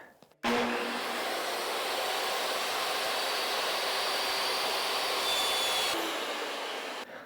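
A power saw rips tongue-and-groove spruce boards into strips, starting abruptly with a loud, steady, close whine and roar that holds for several seconds before cutting off, with no talk.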